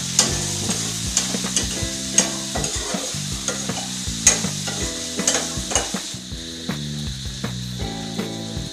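Okra sliced for a vegetarian Assamese dish is stir-fried in a pan, a loud close sizzle broken by frequent rhythmic scraping and clanking of a spatula against the metal, no voices.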